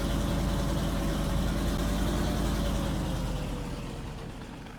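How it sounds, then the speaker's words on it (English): Heavy truck engine idling in Farming Simulator 19, a steady low rumble with a constant drone that holds level, then eases off slightly toward the end, with no talking. "Sure like the sound of this truck."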